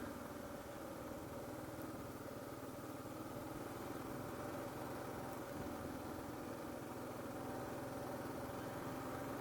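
A Kawasaki motorcycle hums quietly and steadily during a ride, its low engine drone blended with a constant wash of wind noise and no speech.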